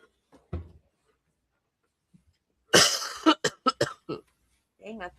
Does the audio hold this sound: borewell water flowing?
no